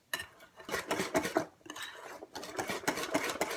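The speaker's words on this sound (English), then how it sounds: "Just going to whisk that into the cheese." Granulated sugar is whisked into ricotta cheese in a bowl, producing a steady run of quick, rhythmic clinks and scrapes of the whisk against the bowl, close and moderately loud, with brief pauses.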